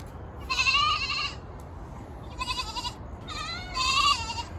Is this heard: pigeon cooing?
no